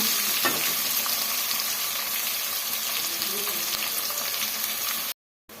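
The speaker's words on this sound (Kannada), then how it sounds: "ನೋಡಿ, ಈ ಥರ ಫ್ರೈ ಮಾಡ್ಕೊಬೇಕು." Ingredients for avalakki bath fry in a pan with a steady, moderately quiet sizzle and occasional stirring clinks, ending in a brief cut to silence.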